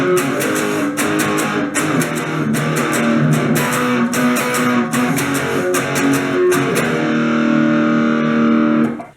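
Distorted electric guitar playing the pre-chorus of a song, sustained crunchy chords with rhythmic picked accents, close and alone, then cutting off abruptly at the end.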